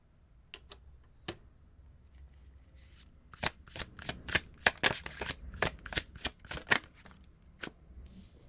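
Tarot cards are riffled and shuffled at close range: a few scattered taps first, then a quick run of crisp, sharp flicks before it settles, with no talking.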